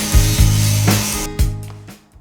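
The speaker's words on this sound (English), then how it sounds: "we'll see you when we're done grinding this" Steel parts for a welding cart are ground with a power tool in several loud, rasping passes, each starting abruptly and trailing off, with short pauses between strokes.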